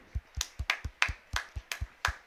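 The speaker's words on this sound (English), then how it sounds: "everyone's clapping" Football spectators at a Charlton match clapping in tribute to a victim of the Westminster attack: roughly ten distinct, evenly spaced claps, close and crisp, with no talk over them.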